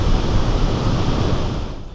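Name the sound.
Horseshoe Falls waterfall at Niagara Falls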